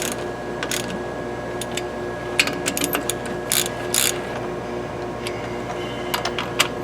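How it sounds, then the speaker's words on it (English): Brake caliper bolts tightened in a star pattern during a brake install, with a tool giving quick ratcheting clicks in short, scattered bursts over a low, steady background hum. "you're going to tighten these down in a star pattern until the gap is closed and it gets pretty dang tight"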